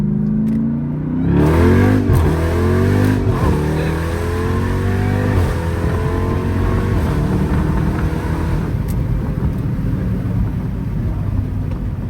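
A Jeep Trackhawk launches hard, its engine roaring loud and close as the revs climb through several quick gear changes before settling into a steady high-speed drone.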